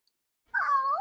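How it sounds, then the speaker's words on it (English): A cat lets out a single short, close meow about halfway in, after near silence. "your cat meow was in there"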